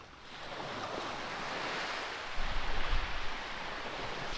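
Waves wash into a small bay on the Indian Ocean coast, a steady broadband surf hiss with wind buffeting the microphone and a louder surge of rumbling water partway through.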